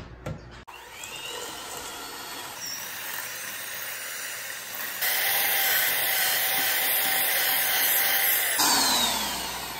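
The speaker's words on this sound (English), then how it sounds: "cream them together with your hand mixer until they're light and fluffy" A hand mixer creaming sugar and room temperature butter, a continuous close electric whir that steps up in pitch and loudness partway through, the beaters grinding through the mixture, with no speech.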